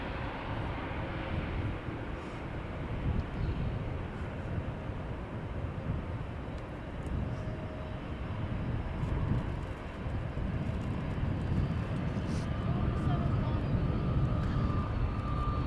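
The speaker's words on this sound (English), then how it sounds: "Time for another Delta A330." A Delta Airlines Airbus A330 jet departs Amsterdam Schiphol Airport, its engines a broad, steady roar that holds loud and close and swells slightly toward the end, with faint talk and wind noise underneath.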